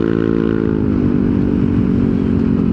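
A Yamaha NMAX 155 scooter fitted with an upgraded CVT drones steadily and loudly close by as it accelerates, its engine pitch holding a continuous mid-range tone with a slight rise.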